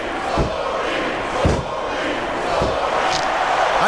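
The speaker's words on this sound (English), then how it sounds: "Wow, listen to that chant, Taz." A wrestling arena crowd in WWE SmackDown vs Raw 2006 chants and roars steadily throughout, a dense wash of voices with a few sharper swells rising out of the noise.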